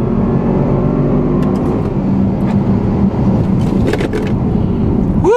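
2013 Range Rover or BMW X1 accelerating hard from 0 to 60 mph toward a 6,500 RPM redline, a loud, continuous engine roar heard close from inside the cabin throughout.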